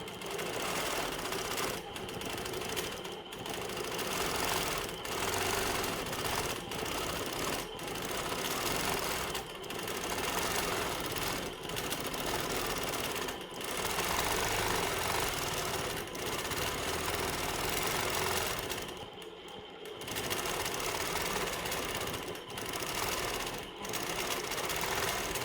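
A sewing machine hums in long continuous bursts during free-motion quilting of a feathered wreath, stopping briefly between runs with a longer pause near the end, close and steady with no talking.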